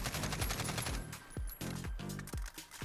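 An AK47 rifle fitted with a compensator fires in a video game, a series of sharp close gunshots in short bursts and single shots with brief pauses between them, over a low steady background hum.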